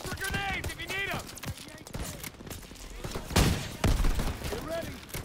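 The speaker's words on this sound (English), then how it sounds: "Come on, they need cover fire! Suppressive fire! Keep firing!" Gunfire from a Call of Duty: WW2 campaign battle: sharp shots and bursts crack out between shouted voices giving orders, with louder volleys near the middle of the clip.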